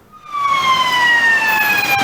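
An ambulance siren on the streets of Mexico City, a loud, steady electronic wail that holds with a slowly falling pitch, close by with no talk over it.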